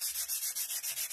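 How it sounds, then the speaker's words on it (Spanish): Waterproof sandpaper rubbed by hand over a craft surface to smooth away cutter marks, a rapid series of about eight rhythmic scraping strokes, close and clear, with no talking. "Todo por donde pasamos el cúter, chicas, pasamos nuestra lija para quitarle todo lo imperfecto que dejó ese cúter."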